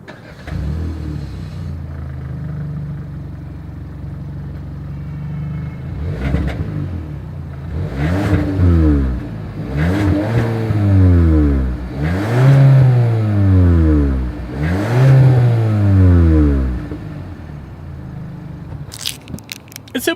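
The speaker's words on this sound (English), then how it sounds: "As always, here is that exhaust clip." 2021 Hyundai Sonata SEL sedan exhaust, idling low at first, then a series of five or six sharp revs that rise and fall in a steady rhythm, close and loud with no talk.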